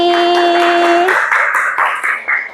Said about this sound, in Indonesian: Beri tepuk tangan buat Utisaki.